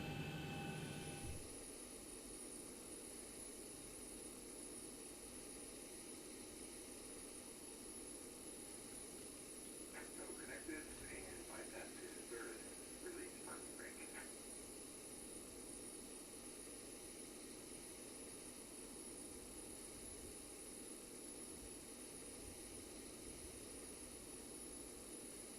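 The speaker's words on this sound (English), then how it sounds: "Everything on the overhead now is ready to go for our engine start" Boeing 737 jet engines spooling up in the X-Plane 11 flight simulator, a steady high whine and low rumble holding at an even, moderate level throughout, with a brief cluster of clicks partway through.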